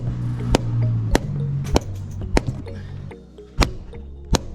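Sharp mallet strikes on the exhaust side of an R32 Nissan Skyline GTR engine, six loud metallic hits at uneven intervals over a low, steady background hum in a garage.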